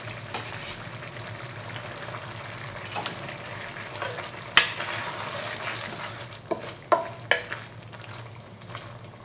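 Small-cut tofu tumbles into a hot pan for Korean-style mapo tofu, sizzling steadily with scattered clicks and scrapes of stirring, close and fairly loud with no one talking.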